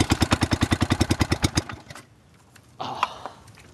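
A go-kart engine fires on a cold start, a rapid, loud run of regular putting beats that lasts about a second and a half before dying out. A brief rustle follows in the quiet.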